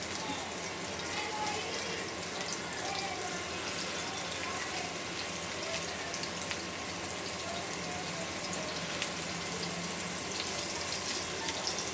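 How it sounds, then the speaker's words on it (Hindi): Seekh kebab parathas fry in hot oil, giving a faint, even, steady sizzling hiss with no break. "अब 1 से 2 मिनट तक का ना हमें इसी तरह से अच्छे से फ्राई करेंगे दोनों तरफ"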